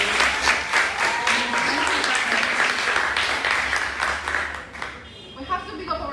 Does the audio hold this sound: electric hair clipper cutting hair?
no